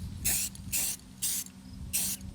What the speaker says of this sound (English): I think you can spray paint this upside down